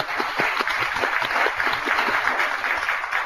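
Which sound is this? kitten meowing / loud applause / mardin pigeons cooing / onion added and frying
loud applause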